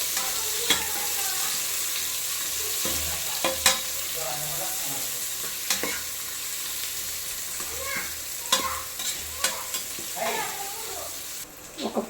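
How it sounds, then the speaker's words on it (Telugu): Onions fry in a pan, a soft steady sizzle close by, broken by scattered clinks and scrapes of stirring, with an unsteady, uneven rhythm. "ఆనియన్ లైట్గా వేగింది, దాంతోపాటు పుదీనా వేస్తున్నాను"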